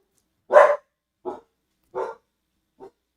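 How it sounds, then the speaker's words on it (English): A pet dog barks after a knock at the door: four separate barks, the first loud and close, the rest shorter and gradually fainter, with silence between them. "now my dog's not going to stop barking."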